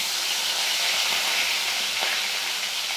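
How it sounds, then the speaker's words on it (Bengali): Medium-sized hilsa fish lightly frying in hot oil in a wok, giving a steady, dense, close sizzle and hiss that holds constant throughout with no talking. "কড়াইতে আমার তেল গরম হয়ে গেছে এবার আমি মাছগুলোকে হালকা ভেজে নেব"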